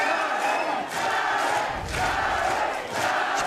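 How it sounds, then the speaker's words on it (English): Loud, dense crowd roar at a combat-sports fight, a continuous wall of cheering and shouting that swells and dips slightly, with no clear single voices standing out. "You can hear the crowd there getting behind Darren Anstey."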